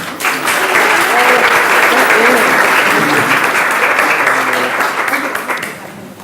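Guests at a student youth enrichment luncheon give loud, sustained applause that swells early, holds, then tapers off toward the end, with a voice faintly present underneath.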